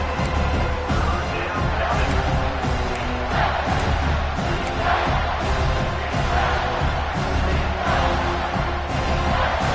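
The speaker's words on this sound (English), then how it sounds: "And the crowd coming to life here, trying to help this defense down in the red zone." A dense crowd in a football stadium roars and cheers steadily, loud and sustained, with its rises and swells continuing throughout.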